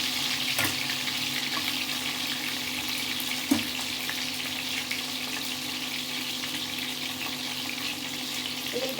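Prawns fry in about half a cup of hot oil with a steady, close sizzle, and a single clink marks a piece being turned partway through, with no voices.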